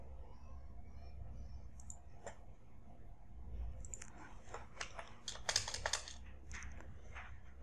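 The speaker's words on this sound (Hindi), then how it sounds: "जेंडर में जेंडर ही टाइप कीजिए" Typing on a computer keyboard while entering text into a form, with steady bursts of quick key clicks over a low background hum, no talking.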